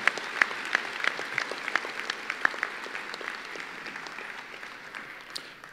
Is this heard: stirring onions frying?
no